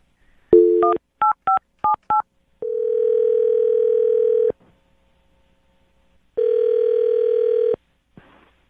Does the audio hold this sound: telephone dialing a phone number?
yes